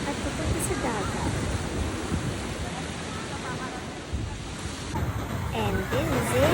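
Sea waves breaking on the beach at Elyu (La Union), a steady broad wash of surf with wind buffeting the microphone, swelling louder near the end.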